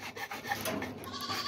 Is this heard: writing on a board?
no